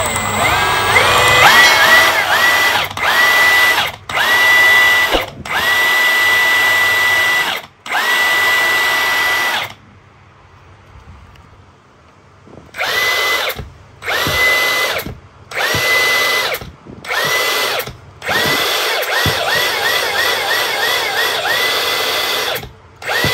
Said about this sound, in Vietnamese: Máy bắn bu lông đầu dài.